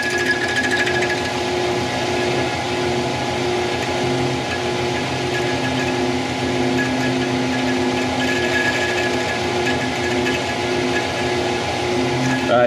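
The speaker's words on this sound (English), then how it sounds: "Drills quite beautifully on here." A metal lathe running at its slowest speed drills holes in an oiled pop-up piston holder, giving a steady, loud mechanical whir and grinding hum that continues without a break and with no talk.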